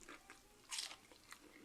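A bite into crisp, flaky puff pastry gives one sharp crunch followed by a few faint crackles of chewing, quiet and close, no talking.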